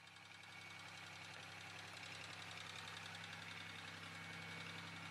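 A Chevy Malibu engine runs at a steady idle, a low, even hum with a faint knocking pulse, heard alone and quietly throughout.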